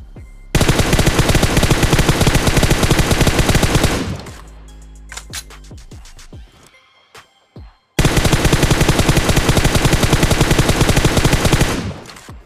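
Automatic gunfire in the PUBG Mobile video game, in a solo Conqueror lobby: two long, loud bursts of rapid shots separated by a quieter stretch of scattered clicks and game sounds.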